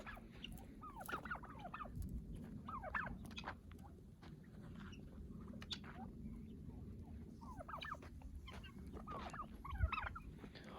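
A flock of turkeys gobbles in repeated bursts at a moderate distance, the rattling calls overlapping over a steady low background hum.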